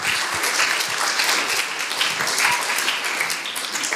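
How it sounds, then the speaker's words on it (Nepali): Church congregation clapping in thanks during a sermon, a dense, sustained round of applause from many hands, close and lively, with no talk over it. "ताली बजाएर हामी परमेश्वरलाई धन्यवाद दिउँ न"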